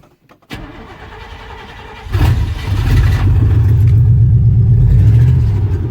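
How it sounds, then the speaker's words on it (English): A car engine cold start: a brief crank near the half-second mark, then it catches with a loud surge and settles into a steady, rough low idle, close by with no talk. "But I'll do a cold start on this."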